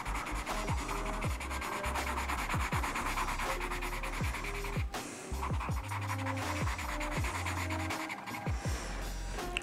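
Coloured pencil or crayon laid on thickly across paper while drawing a turtle, a close, continuous rubbing scratch with repeated quick back-and-forth strokes and brief pauses, alone without talk.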